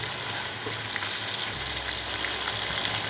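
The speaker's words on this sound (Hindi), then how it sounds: "प्याज फ्राई हो रहा है" Onions frying in a pan, browning as they cook, with a steady close crackling sizzle and small pops throughout, no voices.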